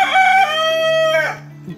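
A farm rooster crows once up close, a loud drawn-out cock-a-doodle-doo that rises, holds and trails off, ending with a brief low cluck.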